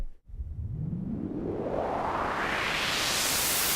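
A white-noise riser synthesized with a combinator patch in Reason sweeps steadily upward in pitch over several seconds, hissing and building in brightness, with nothing else playing.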